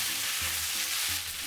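Carrots and chicken stir-frying in a pan for a Chinese-style chicken spaghetti, giving a steady broadband sizzle with a few soft stirring scrapes, close and fairly loud, no voices.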